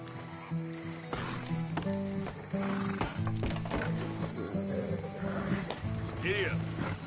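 Horse running in Red Dead Redemption 2, rhythmic hoofbeats carrying steadily through the whole stretch beneath a game score of sustained tones, with a voice speaking over it.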